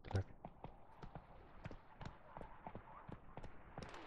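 Hooves clip-clop on the ground in The Witcher 3 on PC, a steady run of sharp, evenly spaced knocks, fairly close and moderately loud against a low background bed, with no talking over them.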